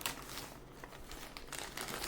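Crinkling plastic Ukrposhta postal bag being handled, continuous crackling and rustling with uneven bursts throughout, close and fairly loud, with no talking.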